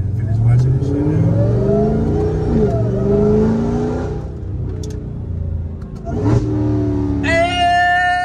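A 900 whp Dodge Charger Hellcat revs hard with a loud, rumbling exhaust, climbing and falling through several pulls and then barking sharply on a downshift, all heard close from inside the car while someone talks over it.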